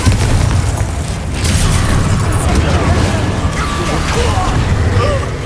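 Confringo fire spell explosions in the game Hogwarts Legacy, loud booming blasts and crackling bursts over a dense rumbling combat din, with faint game voices underneath.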